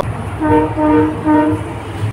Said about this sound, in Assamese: ধুনীয়াকৈ ট্ৰেইন এখন আহি আছে এয়া চক ট্ৰেইনখন